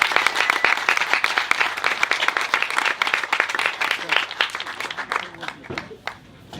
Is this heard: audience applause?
yes